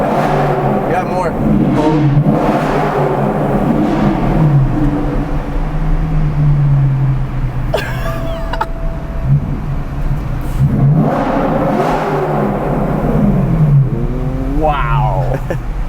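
A loud V8 engine swapped into a BMW 1 Series revs hard amid a busy car gathering, with other engines droning and people talking nearby throughout.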